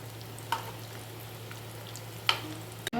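A batch of muthiya dumplings for churma ladoo fries in hot ghee with a steady, soft sizzle, broken by two or three brief clinks of stirring and a sharp knock right at the end.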